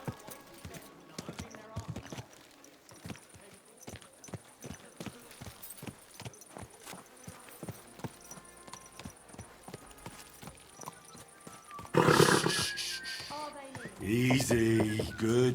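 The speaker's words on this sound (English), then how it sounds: "Easy, good horse." Steady hoof clip-clops of a horse walking in the video game Kingdom Come: Deliverance 2, evenly paced, then louder rushing noise and a brief whinny-like burst near the end, with some talk mixed in.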